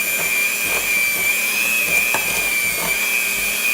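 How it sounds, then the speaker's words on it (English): Electric hand mixer whirring steadily as it stirs peanut butter, vanilla and marshmallow cream, a constant high motor whine close up with faint soft thumps of the beaters in the bowl. "You just turn the button on and it stirs stuff around for you"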